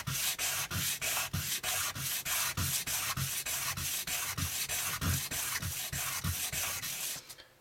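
Steady rhythmic wet sanding of a slider frame with water and 1000 grit sandpaper, close and loud, with even back-and-forth strokes repeating for several seconds before stopping.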